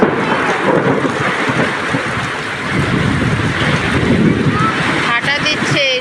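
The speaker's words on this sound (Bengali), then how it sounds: "কত বাতাস বইছে চারিদিকে" Strong storm wind from a Baishakh squall with rain blows hard and continuously, a loud roaring buffet against the microphone, with a few faint whistling tones near the end.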